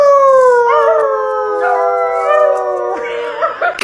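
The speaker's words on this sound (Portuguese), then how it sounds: "Família uivando unida." Several dogs howl together in a sustained, overlapping chorus, long wavering tones layered over one another and loud throughout, with a few yips breaking in near the end.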